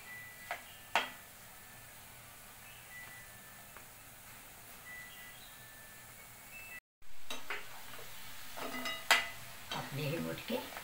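Churma dough balls fry in a pan and are stirred now and then, with a soft, steady sizzle, scattered scrapes and clinks, and a brief dropout midway.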